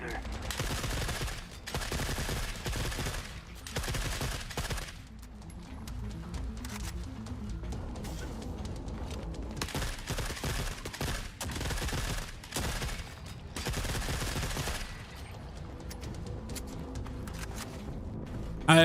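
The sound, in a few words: gunfire in video game Forever Winter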